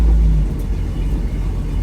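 1972 Ford F100 engine idling, a low steady rumble with a slightly high idle, close and continuous with no talking.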